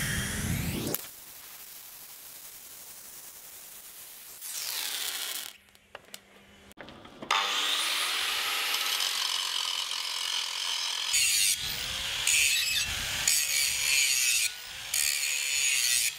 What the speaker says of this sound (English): then we'll give it a grind up